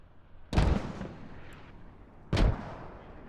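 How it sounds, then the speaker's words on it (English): Two heavy, booming mortar impacts strike a building in a tactical shooter match, landing about two seconds apart with a rumbling tail after each. "Mortars back onto the hab."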